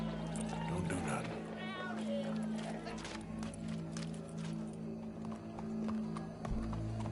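Horse hooves clip-clop amid a busy outdoor scene, with a constant low engine-like drone, voices and crowd noise layered over the steps.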